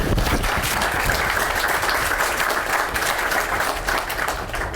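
Sustained audience applause for a team at a state and local officials' economic announcement, a broad, even wash of many hands clapping that fades slightly toward the end.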